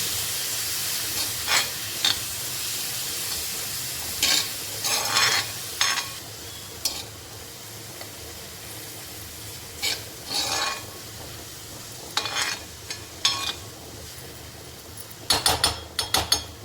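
Onion, tomato and ginger-garlic paste sauté on a flat pan for a spicy cluster bean dish, with a continuous hiss of frying broken by bursts of spatula stirring and scraping.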